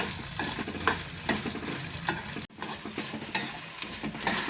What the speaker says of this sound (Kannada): ಮೀಡಿಯಮ್ ಸಿಮ್ಮಲ್ಲಿ ಇದನ್ನು ಸ್ವಲ್ಪ ಕೆಂಪಗಾಗೋವರೆಗೂ ಹುರ್ಕೊಳ್ಬೇಕು